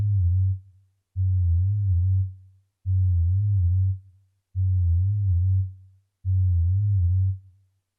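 A synth bass with automated pitch throbs in five long sustained notes, each bending up and back down, separated by short gaps, deep and loud with no other sound.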